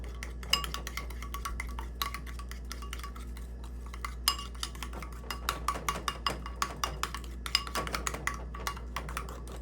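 A utensil stirs capirotada ingredients in a bowl, making a steady run of light clicks and scrapes over a constant low hum, close and fairly quiet with no voice.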